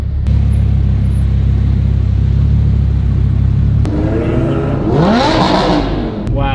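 A group of supercars rolls down Lombard Street, their engines a loud, steady low rumble close by, with revving swelling and rising toward the end.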